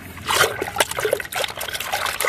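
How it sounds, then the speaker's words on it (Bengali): Potato paste liquid fertilizer is stirred into water, giving close, irregular trickles, splashes and sloshing that come in quick bursts. "এইভাবে এই জলের সঙ্গে এটা মিশিয়ে নেবো"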